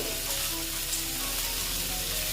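Bitter gourd and potatoes frying in a pan just after a little water is added, giving a dense, even hiss and bubbling sizzle that stays loud and unbroken throughout, with no voices.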